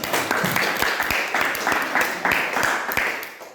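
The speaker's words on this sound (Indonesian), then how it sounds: "Aplaus dulu untuk kelompok 2" Applause for a presenting group at an academic coaching session, a dense burst of many hands clapping in a room, fairly loud and close, continuing steadily for a few seconds.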